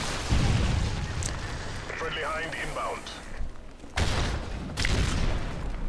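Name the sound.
grenade explosion in a video game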